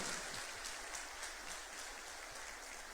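A church congregation applauding during a sermon, with soft, steady, sustained clapping heard at a distance and no talking over it.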